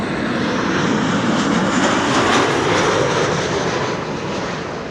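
KLM Boeing 737 airliner arriving from Berlin at Amsterdam Schiphol, a broad, loud jet roar that swells toward the middle and eases slightly at the end, heard alone without speech.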